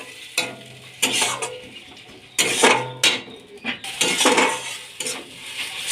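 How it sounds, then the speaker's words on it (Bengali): A spoon stirs turmeric, chili powder and chopped coriander with a little water in a pan for a cauliflower dish, giving repeated scraping and clinking strokes over a soft sizzle. "সামান্য একটু জল দিয়ে কষিয়ে নেব"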